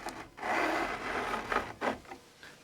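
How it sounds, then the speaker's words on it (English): The fret ends of a Squier Sonic Telecaster are filed with a fret file, one long rasping stroke followed by a few shorter scrapes, close and moderately quiet. "the idea is that you can just file away the fret ends"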